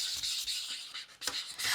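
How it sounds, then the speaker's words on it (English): A small sanding block roughens a plastic surface, giving steady rasping scrubs in close, repeated back-and-forth strokes with brief pauses between passes, alone with no talk. "I'm going to create a little bit of a rough surface using a little sanding block here"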